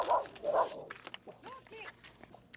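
A dog close by lets out two loud barks, then several high, wavering whimpers and whines, with light shuffling sounds between them and a voice speaking briefly.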